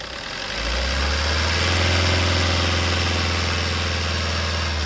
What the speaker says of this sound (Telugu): మీకు కూడా ఒకసారి ఇంజన్ స్టార్ట్ చేసి చూపిస్తాను, చూడండి ఫ్రెండ్స్.